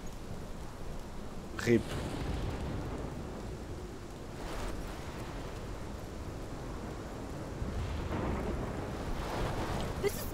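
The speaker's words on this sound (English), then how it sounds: "This is my storm." Rain pours steadily through a thunderstorm in the video game Life is Strange Remastered, with sharp thunder cracks around two and five seconds and a faint voice briefly speaking over it.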